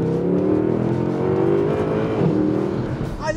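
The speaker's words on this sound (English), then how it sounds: "That AMG, they're such angry engines." Mercedes-AMG C63 engine revving hard while driving, a loud continuous growl that climbs and holds steady, close up with no talking.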